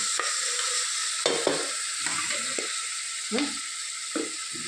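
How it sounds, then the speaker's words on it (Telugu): Onions frying in a pan, a continuous close sizzle broken by repeated scraping and clattering strokes of a spoon or spatula stirring, several distinct knocks spaced through the stretch. "కొంచెం ఆనియన్స్ బాగా వేగనివ్వుతున్నాం."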